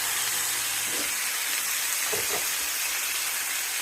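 Vegetables and tomato sautéing in a pan for rava kichadi, a steady close sizzle and hiss throughout with a few faint scraping stirs over it.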